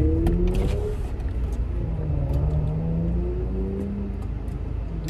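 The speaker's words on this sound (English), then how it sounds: "nice little 370Z." A Nissan 370Z engine, a loud close rumbling drone holding a steady pitch with slight rises as it revs, then easing off slightly.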